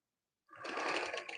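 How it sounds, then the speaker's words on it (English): An interlocking machine stitching fabric edges starts up abruptly and runs as a fast, steady mechanical whir, close and fairly quiet, alone without talk. "You can weave it or use the interlocking machine"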